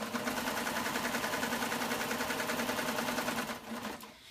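A Baby Lock serger runs a two-thread flatlock stitch at steady speed, a fast even mechanical whir and chatter close by, slowing and stopping near the end.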